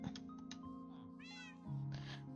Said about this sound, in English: Oh, the kitty is on the chest.